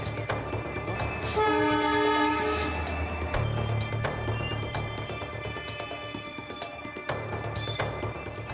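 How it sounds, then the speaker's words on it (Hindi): A train engine arriving on railway tracks blasts its horn in long, loud tonal calls, with repeated horn bursts over the rumbling, clattering rail noise of the approaching locomotive. "तभी पीछे से दूसरी इंजन हॉर्न बजाते हुए पहुंच जाती है।"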